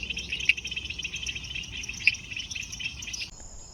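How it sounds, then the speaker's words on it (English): Frogs call in a dense, continuous night chorus during a summer herping outing near a river, with a high rapid trill pulsing steadily and a few louder notes standing out before it thins near the end. "And here the frogs are going ballistic."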